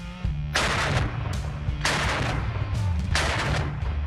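Heavy AK-50 rifle fired from the shoulder: three loud, booming single shots spaced about a second apart, each with a long echoing tail, close and dominant with no talk over them.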